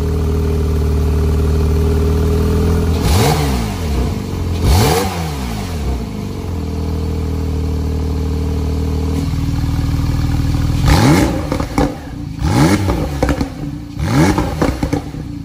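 2018 Porsche 911 Carrera T (type 991.2) engine and exhaust, idling steadily then revved sharply several times, with rising and falling blips close by and no talk.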